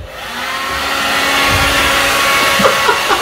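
A hair dryer blows a steady, loud rush of air to whip up a hurricane against a toy boat in a boat-building challenge, holding an even roar throughout with no talk.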